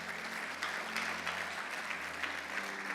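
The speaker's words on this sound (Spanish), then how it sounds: "un fuerte aplauso al Señor" A church congregation applauds in praise of the Lord, steady broadband clapping filling three seconds at moderate level, with a low organ or keyboard drone sustained underneath.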